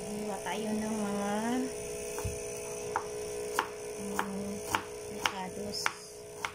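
Knife chopping food on a cutting board while preparing humba, a series of sharp, separate taps spaced about half a second apart under a steady electrical hum, with a person talking between the cuts.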